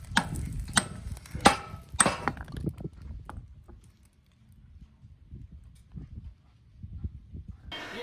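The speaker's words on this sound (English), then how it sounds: "You just get a torch, burn it, and then hit it with a hammer" Several sharp metallic hammer strikes on a torch-heated motorcycle frame bushing ring out in the first seconds, followed by quieter scattered knocks and clatter, then one more hit at the end.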